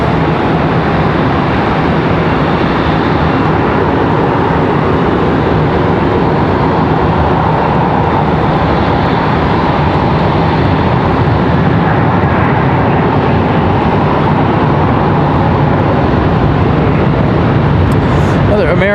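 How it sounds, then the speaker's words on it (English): An American Airlines jet departs from Charlotte Douglas International Airport, a steady broadband engine roar holding loud and constant from start to finish, with no voices heard over it. "American departing over there behind us."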